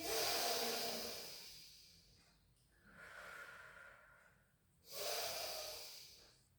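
Slow, audible breaths during a rehab exercise session, with a long inhale, a quieter breath, then another strong breath close to the microphone, no talking.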